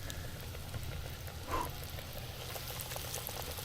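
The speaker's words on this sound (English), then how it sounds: "Oh yeah, we're sizzling." Cornmeal-coated catfish pieces sizzle steadily in hot deep-frying oil, a soft continuous bubbling hiss with a brief louder burst partway through.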